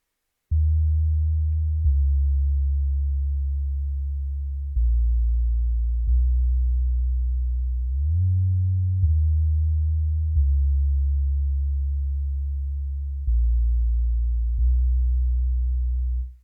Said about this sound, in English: I just slided up a note so that it can have like that sound whenever you sliding 808